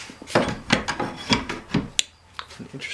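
Short rasping strokes scrape across wood in a loose rhythm, about half a dozen close passes with brief pauses between them.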